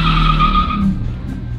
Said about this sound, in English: Vi får en liten wheelie här av mig.